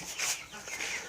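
Chickens clucking in a backyard flock, a short burst of soft, close clucks with faint bird chatter behind, no talk.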